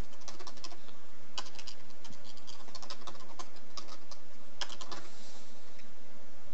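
Clicky computer keyboard typing in a burst of irregular keystrokes, fairly close and steady, with no voices.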